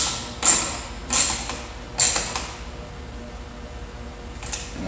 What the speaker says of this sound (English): And then 5 mil Allen key for the bar end.